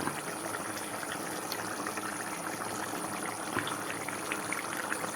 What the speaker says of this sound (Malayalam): അപ്പോൾ ഇനി ഇതിലല്പം വെള്ളം ചേർത്ത് ഇന്ന് നീളം കൂട്ടട്ടെ